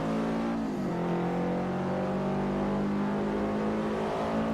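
Subaru race car engine in Forza Motorsport 4 roars continuously and close, one sharp drop as it shifts gears near the start, then a steady rising whine under full throttle, no voices.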